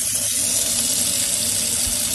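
Piping hot water gushes from a tap into a sink, a loud steady rushing hiss that holds evenly throughout, close up with no speech.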